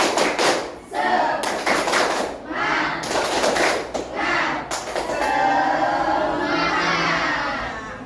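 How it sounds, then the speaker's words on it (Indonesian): A classroom of students performs a rhythmic spirit clap during an Islamic cultural history lesson, bursts of loud patterned claps and thumps separated by short pauses, mixed with children's voices and shouting. "Tepuk semangat."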